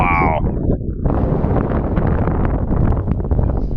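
Strong wind buffets the microphone on a volcano crater rim, a loud, gusty roar that blows continuously after a short quieter moment at the start, with no clear speech over it.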